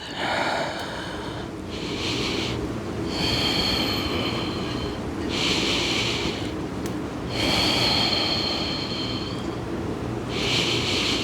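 Slow, deep breaths taken in a yoga stretch during a cozy morning flow, four drawn-out airy inhale-exhale swells at a steady, unhurried pace, close and fairly loud, with no talking.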